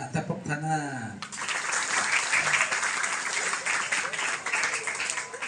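Schoolchildren applauding in a classroom or assembly, a sustained burst of dense clapping that starts abruptly right after a voice calls out and keeps going steadily, with a few voices underneath.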